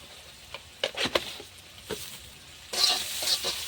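Spices and lentil mixture frying in oil in a pan, close sizzling with scrapes and stirring knocks from a utensil, a louder burst of sizzle near the end.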